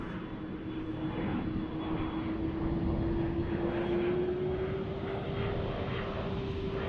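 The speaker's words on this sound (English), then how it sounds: "Checking out our Ghost 747 here from Atlas Air." A Boeing 747 jet operated by Atlas Air at DFW International Airport gives a steady, moderately distant engine roar with a rising whine, with no talking over it.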